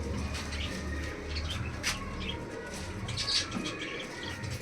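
Giribaz pigeons from an old Rajshahi bloodline coo softly and repeatedly at close range, with low murmuring calls over light chirps and background rustling.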